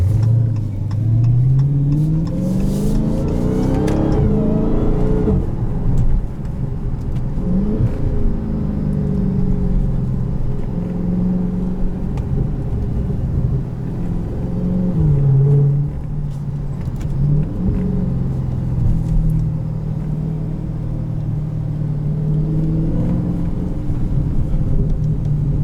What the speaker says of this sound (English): Here I am driving a Charger Hellcat.